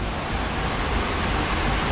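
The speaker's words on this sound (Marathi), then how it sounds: "एवढा डेंजर पाऊस आहे मित्रांनो. असा पाऊस यावर्षी झालाच नाही." A heavy monsoon downpour pours down as a loud, steady, unbroken hiss and roar of rain, close and without any talk.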